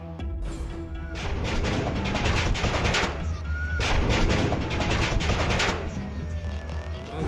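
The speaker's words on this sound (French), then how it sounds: "Une symphonie des explosions sous-marines, le groupe des percussions entre en scène." Dense, heavy underwater rock-blasting explosions rumble and crack in rapid succession, a loud continuous barrage with deep booms and sharp bursts overlapping.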